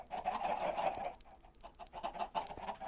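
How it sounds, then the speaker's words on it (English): Chickens in the Minecraft video game cluck in a quick series of short, close clucks with no talking over them. "I lost a bunch of chickens"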